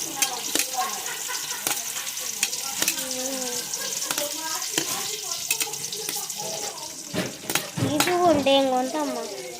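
Onion pieces frying in hot oil at the start of a street-food veg biryani, a steady sizzle broken by scraping stirs and clatter, with bursts of voices and chatter near the end.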